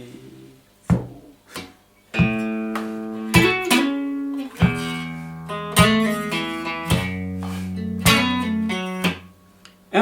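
Electric guitar playing the intro of a song, a clean melodic passage of plucked notes, double-stops and chords with slides, ringing clearly and steadily on its own with no talking.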